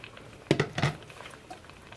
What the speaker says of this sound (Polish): Wrzucamy ziemniaki i resztę warzyw.